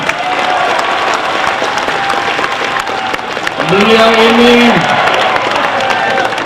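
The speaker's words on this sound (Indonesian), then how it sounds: "tepuk tangan sebesar-besarnya untuk Nyonya Amin Rais atau Ibu Kusnaria" An audience applauds to welcome Mrs Amien Rais, also known as Ibu Kusnaria, with loud, continuous, dense clapping that swells slightly toward the end, and a brief voice rises midway through.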